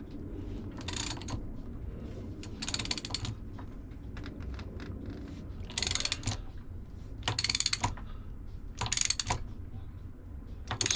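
A nut is being tightened on an Atomic 4 marine engine, with short bursts of clicking, ratcheting metal sounds separated by quieter pauses, close but soft.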